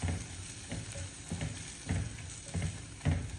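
Chili powder is stirred into hot oil for a kulambu, with quiet, rhythmic scrapes of a spoon about every half second over a gentle frying sizzle, close by and with no one speaking.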